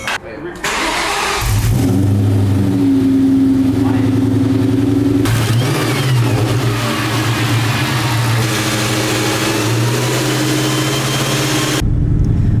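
A Ford Mustang Terminator Cobra with long tube headers and a significant exhaust leak starts and runs, a loud, steady engine drone holding for several seconds with shifts in pitch as it revs and settles.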